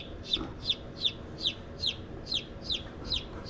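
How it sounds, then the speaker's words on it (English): A newly hatched chick peeps close by in a steady, evenly spaced series of about nine high, sharp chirps, one roughly every half second. "He's chirping."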